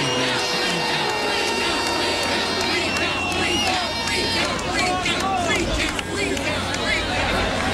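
Election night crowd noise from a dense gathering, a continuous loud hubbub of chatter and shouting with occasional cheers, voices overlapping throughout.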